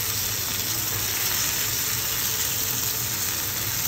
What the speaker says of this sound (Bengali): ওদিকে মাছগুলো আবার দেখে নিচ্ছি যে কতটুকু ভাজা হয়েছে, আবার একটু উল্টে পাল্টে দিলাম।